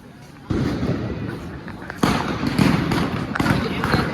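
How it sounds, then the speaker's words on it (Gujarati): Repeated loud crackling bursts of Diwali firecrackers at night in Sarangpur, Gujarat, with sharp onsets near the start and middle, continuing densely with crowd noise and voices in the background. "ફટાકડા"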